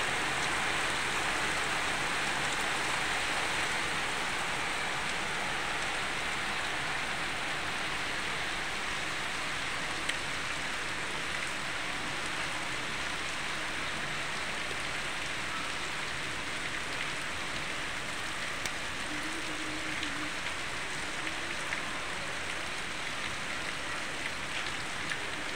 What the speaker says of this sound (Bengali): দেখেন বৃষ্টি কিভাবে পড়তেছে ভাই